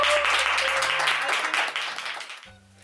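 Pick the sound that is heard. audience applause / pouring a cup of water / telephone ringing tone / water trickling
audience applause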